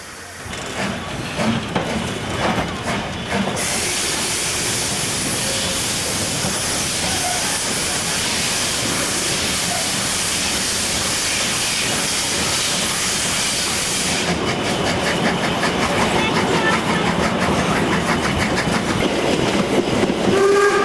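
A narrow-gauge train on the Harz railway pulls away from Benneckenstein, its steady loud rumble and rolling wheel clatter filling the whole stretch, with hissing steam and a brief high whistle-like tone near the start.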